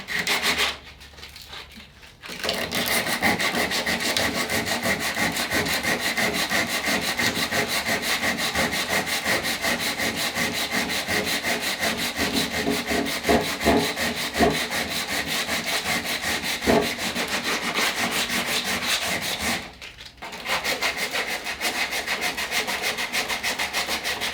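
Rapid rhythmic sanding of resin on a surfboard fin box, a dry scratchy back-and-forth rubbing close by, continuing steadily with two brief pauses.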